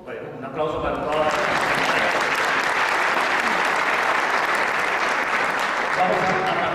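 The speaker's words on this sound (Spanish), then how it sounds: "un aplauso para todas" An audience at a lecture on emancipatory education breaks into applause. It starts after a brief moment of speech, swells within a second and then holds as a dense, steady wash of clapping to the end.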